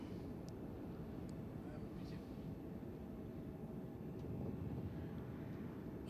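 Aircraft engines drone steadily over the sea in World of Warships, a dense continuous rumble that stays loud throughout the battle with a few faint high blips.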